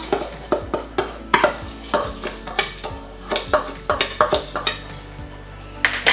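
Soaked basmati rice is scooped and moved into a cooking pot, a rapid series of scraping, tapping knocks of a utensil against metal, fairly loud and close, with no speech.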